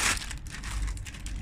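A small plastic bag holding shoes crinkles and rustles continuously at close range for a moment, with no talking.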